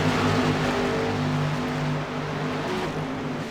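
Race cars in an SRA Tornado Tailgater Chase race at Michigan International Speedway roar down the back straightaway, a loud, continuous engine drone that holds steady and eases slightly partway through.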